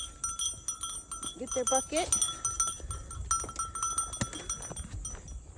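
Sheep on a farm during morning chores, being led across a driveway toward pasture, give a few bleats mixed with ringing bell-like tones while a person speaks close by.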